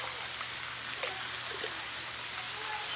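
Rain falls steadily as a soft, even hiss with a few faint drips standing out, close and constant for the whole stretch with no voices.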